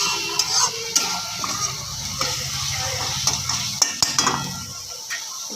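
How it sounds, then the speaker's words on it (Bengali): Ground spices frying in oil in a pan, a soft sizzle under clinks and scrapes of a spoon stirring against the metal, close and intermittent. "এটাকে ভালো করে কষবো আমি"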